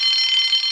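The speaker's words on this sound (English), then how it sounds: "Soon came the alarm." A loud alarm sounds in a Thomas the Tank Engine story, a steady high ringing tone that lasts less than a second.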